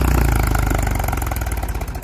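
An old tractor fitted with a 585 engine runs close by with a heavy, steady chugging rhythm and rattling clatter, loud and continuous with no talk.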